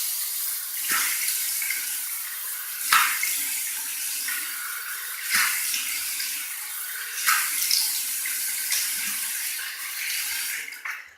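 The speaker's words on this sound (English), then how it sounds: "I'm going to do a from the tap warm water rinse." Warm water runs steadily from a tap with a broad hiss, interrupted every couple of seconds by splashy bursts as something passes under the stream.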